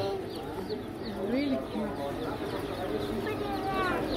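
Chicks at a bazaar in Tehran cheep and cluck in a steady, busy chorus of short, high peeps, close by, while people talk over them throughout.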